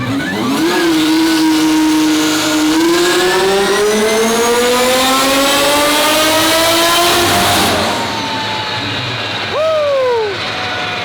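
A twin-turbo Ferrari F12 on a dyno is held at open throttle. The engine climbs in a loud, sustained rising wail for about eight seconds, then cuts off, followed by a short falling rev blip.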